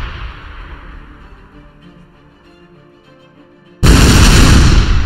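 A tank artillery shot fires in the Shellshock Live video game: after a low ambient stretch, one sudden loud, broadband blast hits and stays dense and sustained to the end.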